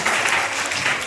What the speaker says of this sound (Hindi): सत्तार सर बहुत विलंब से पहुंचे हैं, इसके लिए जोरदार ताली से इनका स्वागत करें,